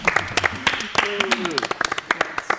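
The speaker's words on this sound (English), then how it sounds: "We're clapping for the rich guy?" Scattered, sharp hand claps from a small group ring out close by, irregular and uneven, mixed with people talking and exclaiming over them.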